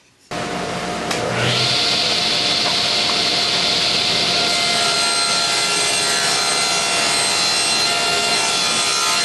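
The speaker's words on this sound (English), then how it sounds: "So we'll be doing that on the table saw." A table saw rips small 3/4 by 3/8 inch wood strips for a wine rack, with a loud, steady, close cutting roar that starts abruptly and holds for several seconds, and no talk.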